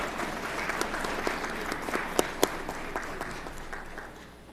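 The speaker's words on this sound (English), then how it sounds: "Let's give them another round of applause while we're waiting for the photo." Audience at a school district event applauds a middle school group, a sustained round of clapping with a few sharp standout claps that gradually fades toward the end.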